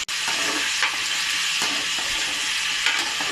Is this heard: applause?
no